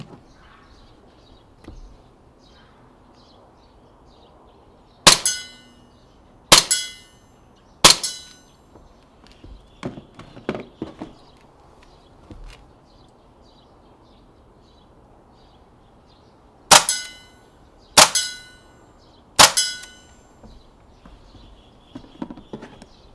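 Airsoft BB gun (MP5, MP9 or M17) firing: two sharp bursts of three cracking shots, loud and close, spaced a few seconds apart, with faint clicks and handling noise between them.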